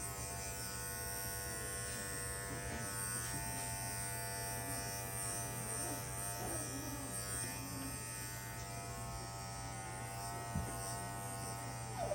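Electric clippers shaving a schnauzer puppy run as a steady, close, continuous buzz for the whole stretch, holding an even hum with no speech over it.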